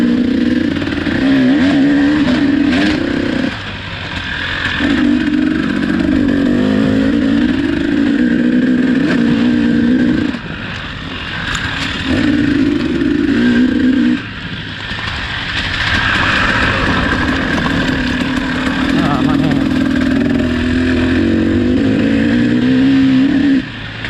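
KTM two-stroke and Honda four-stroke motorcycles in a time trial race, engines roaring loud and close in a sustained drone that drops briefly between rising revs and shifts, with no talk.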